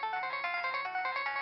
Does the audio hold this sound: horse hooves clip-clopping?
no